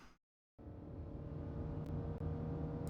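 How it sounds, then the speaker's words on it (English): Sports car engine in the video game Café Enchanté, a steady low roaring drone that starts abruptly after a brief silence and holds at an even level, close and alone. "the sound of a roaring engine killed the atmosphere hanging above us all"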